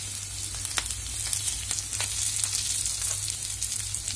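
Food sizzles in a pan for a lunch-box dish, a continuous crackling fry with scattered pops, steady and fairly close under a low background hum.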